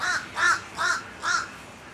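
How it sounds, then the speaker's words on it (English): A bird outdoors in South Florida gives four harsh, crow-like caws in an even rhythm, each about a quarter second long, fairly close and clear with no talking. "That was a bird."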